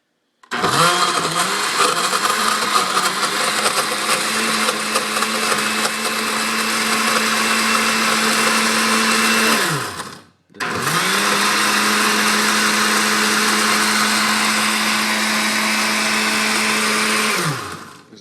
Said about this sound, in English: Is the pizza blended up?